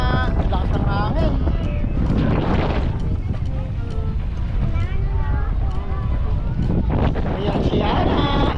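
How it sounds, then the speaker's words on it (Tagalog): Strong wind buffets the microphone with a constant low roar at the Calabasa River, while people talk and children's voices carry over it. "Ang lakas ng hangin."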